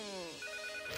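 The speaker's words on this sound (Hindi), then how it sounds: "फोन।" A telephone gives a single short electronic ring, brief and clear, in a cartoon household at Christmas.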